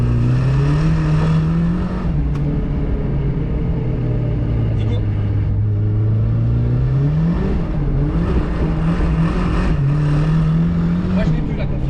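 A 750 hp BMW M2 drifting on the Lohéac circuit: a loud, close engine drone that sags and climbs as the revs rise and fall, with voices talking over it.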